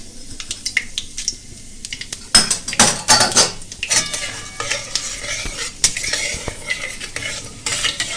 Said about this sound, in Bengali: তেল গরম হয়ে গেছে, এবার আমি দিয়ে দিচ্ছি একটা শুকনো লঙ্কা আর একটা তেজপাতা, সামান্য জিরে